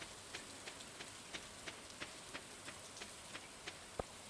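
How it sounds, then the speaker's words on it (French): Rain falls in Stardew Valley, a steady soft patter with small droplet ticks at regular intervals and one sharper tap near the end, heard alone without voices. "Il pleut encore?"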